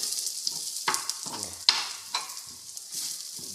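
Dry fish with chilli flakes being stirred in sunflower oil in a frying pan, soft sizzling under several scraping spoon strokes, close and fairly quiet, with no voices.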